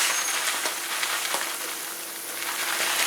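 Milk and water heat toward a boil in a pot for oatmeal porridge, producing a steady, close hiss with faint bubbling pops throughout and no voices.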